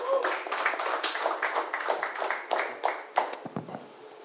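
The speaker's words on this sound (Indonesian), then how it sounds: "tepuk tangan buat Bang Rizal" Audience applause at an Indonesian opinion talk event, steady crowd clapping with a dense patter throughout, tapering into a few scattered claps at the end.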